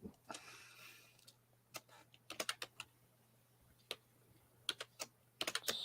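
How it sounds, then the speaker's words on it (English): Loud computer keyboard typing during a live online session, with sharp irregular keystroke clicks in scattered bursts and runs, close and alone over a faint steady hum. "So, Croco, can you do me a favor and mute your keyboard?"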